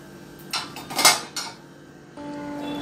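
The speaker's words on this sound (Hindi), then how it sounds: "इसमें सारे जो बड़े बड़े बर्तन हैं वो इस तरह से यहाँ पे रखेंगे।" Dishes, glasses and spoons clink and clatter as they are set into the rack of a Bosch dishwasher, a few sharp knocks up close, followed by a low steady hum.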